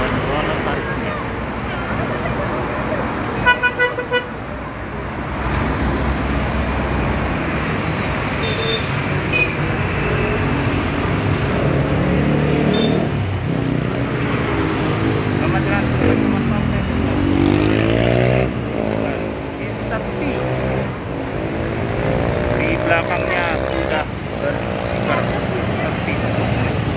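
Intercity bus pulling away from a busy terminal during the holiday homecoming rush, a steady engine rumble rising and changing pitch as it moves off, amid crowd and traffic noise with people talking; no clear horn toot stands out.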